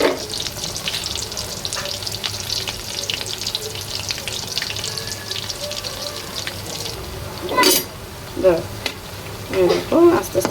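Potato-and-flour pitha puris deep-frying in hot oil: a dense, continuous bubbling sizzle fills the clip, with louder splashy bursts toward the end as the puris are turned.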